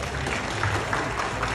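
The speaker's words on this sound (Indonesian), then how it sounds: "tepuk tangan" Applause at a graduation ceremony, a dense steady clatter of many hands clapping in a hall, sustained throughout at an even, fairly loud level.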